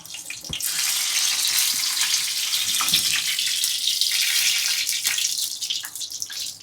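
Mustard seeds, cumin and curry leaves hit hot oil in a small ladle for a tempering, giving a loud, steady crackling sizzle that holds throughout with a few sharp pops, and no talk over it.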